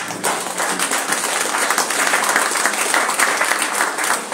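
A church congregation applauds loudly and steadily, dense clapping from many hands filling the room for several seconds.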